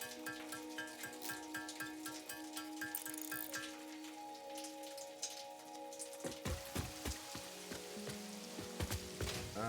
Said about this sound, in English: That is some very good and cool rain.